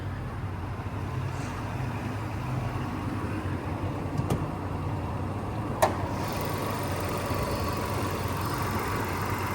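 A 1992 Toyota Century's 4-liter V8 runs at a steady idle close by, a continuous low rumble with a couple of brief clicks partway through and no talking.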